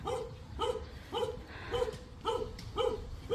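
A pair of dogs barking at a rural house garden, roughly six loud, evenly spaced barks carrying clearly over faint outdoor background.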